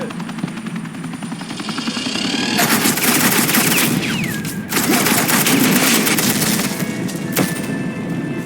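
Heavy suppressing gunfire in the Batman: The Enemy Within game, sustained loud automatic bursts over a deep rotor-like drone, with brief breaks and a whining sweep before the firing resumes.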